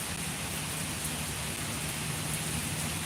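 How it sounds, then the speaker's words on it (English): Steady rain pours down continuously on a rainy day, a dense, even hiss of falling drops with a faint low hum beneath and no voices over it. "That rain is coming down more, y'all."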